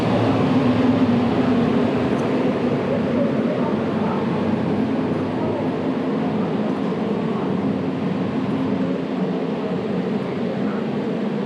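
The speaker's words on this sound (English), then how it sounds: "And the tram slows down just like this." Tram in Penang slowing down, a continuous low rumble of wheels and motor that holds steady and close throughout, with a voice faintly beneath it.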